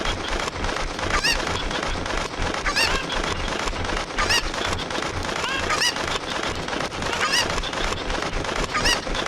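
Repeated honking squawks from chickens in Ocarina of Time, sharp calls bursting out roughly every one to two seconds over a busy, continuous game background, with no voices.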